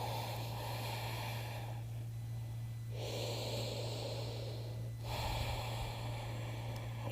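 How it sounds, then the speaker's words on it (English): Deep, slow breathing during a yoga stretch, heard close up: long drawn-out inhales and exhales in a steady rhythm over a constant low hum. "Keep breathing here."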